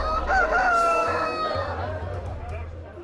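Roosters crow loudly and close by at a cockfight in China, with a continuous low rumble and a busy crowd underneath.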